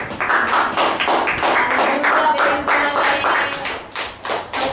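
At the close of a church sermon, a congregation claps in quick, uneven bursts of hand slaps that rise and dip in loudness and continue without pause.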